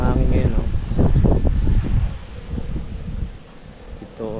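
Wind blows through Barangay Imelda near the Palo boundary in Tacloban, Leyte, a steady broadband rush buffeting the microphone while someone talks over it, easing toward the end.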